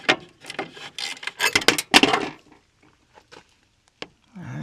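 10mm socket and ratchet working on the factory horn of a Ford Transit, giving a run of close scraping, rasping clicks, then a few sparse taps and a faint rustle.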